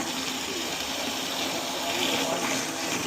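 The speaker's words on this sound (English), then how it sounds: "So I wanted to fill the bucket first before we start doing anything" Brown water from a home water heater gushes into a bucket in a continuous, steady splashing rush under strong pressure, with no talking.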